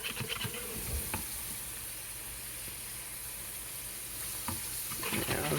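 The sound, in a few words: food frying in a pan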